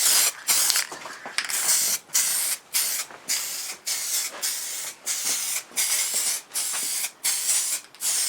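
An aerosol spray paint can with a wide fan nozzle fires repeated short hissing bursts, about a dozen close, loud sprays separated by brief gaps, coating parts in a garage motorcycle project.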